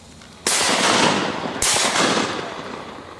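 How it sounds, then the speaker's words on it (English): Two loud, close shotgun blasts ring out about a second apart during a youth hunt outdoors, each sharp crack trailing off into a long fading echo. "Shoot at these, Griff. Shoot them"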